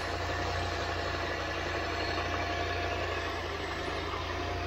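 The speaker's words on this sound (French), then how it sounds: "J'ai rebranché le Bosch et ça démarre." A Citroën XM with a 3-litre V6 engine runs at a steady idle close by, its low, even rumble continuous throughout with no voices over it.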